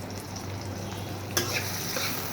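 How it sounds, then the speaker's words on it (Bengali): Noodles frying in a pan, a steady soft sizzle with a low hum underneath and a single sharp click partway through. "তো একটু ভেজে নিচ্ছি।"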